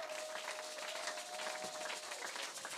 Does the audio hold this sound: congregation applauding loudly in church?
yes